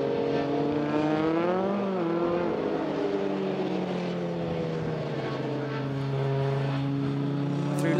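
British Formula 3 race cars scream past on track in a championship race, a loud, sustained engine whine with pitch sweeps as cars approach and pass, followed by a steady high drone.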